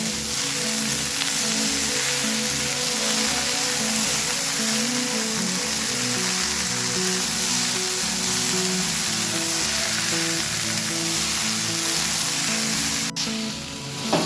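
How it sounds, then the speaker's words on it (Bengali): Chopped potatoes with carrots and cauliflower stir-fried in a hot pan, a steady loud sizzle and hiss running throughout with faint clatter of stirring. "এবার কেটে রাখা আলুর কুচোগুলো এর মধ্যে দিয়ে দিলাম, দিয়ে আরও মিনিট 3-4 সময় ধরে নেড়ে নেব।"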